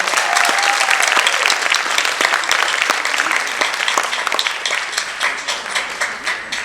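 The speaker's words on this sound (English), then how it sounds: "So a big round of applause for her" Sustained audience applause for a guru dance teacher at a classical Indian dance performance, dense and steady throughout before tapering slightly near the end, with no talking over it.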